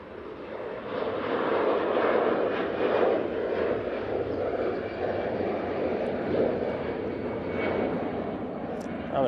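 An airplane takes off at Manchester Airport, its engine roar broad and sustained at a moderate distance, swelling early then easing slightly.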